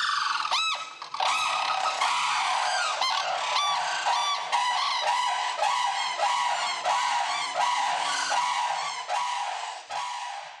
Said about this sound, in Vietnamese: Tiếng lớn là tiếng của chim trống, tiếng của chim mái nhỏ hơn.